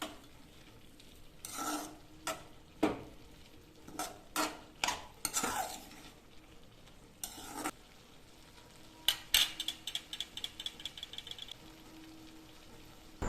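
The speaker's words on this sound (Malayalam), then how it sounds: "ഇനി നമുക്കൊന്ന് ഇതിനെ ചെറുതായിട്ടൊന്ന് ഇളക്കിയിട്ട് കൊടുക്കാം." Ivy gourd stir-fry with turmeric and salt is stirred in a pan, giving a series of light scraping and tapping strokes with a few quicker clinks of a utensil against metal, all fairly quiet over a soft sizzle.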